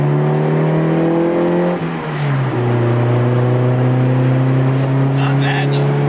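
EF-generation Honda Civic Si with four fuel injectors drives along with a steady droning engine note that dips briefly as the revs drop and then settles into an even cruise from inside the cabin.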